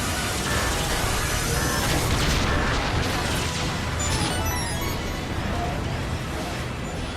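Missile explosions and crashing impacts in the Star Fox Zero video game form a dense, loud, continuous barrage of booms and bursts with no clear gaps.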